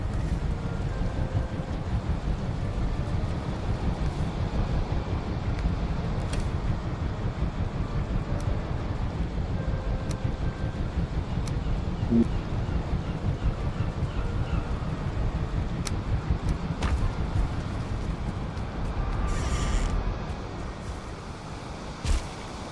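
A sailing ship in the video game Valheim cruises with wind rushing past, a steady unbroken roar of wind and water lasting throughout at an even, fairly loud level.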